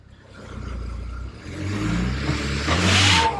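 A BMW 135i with an N54 engine converted to an 8HP45 transmission, its engine revving up and swelling loudly as the wheels spin, with tire screech rising at the end.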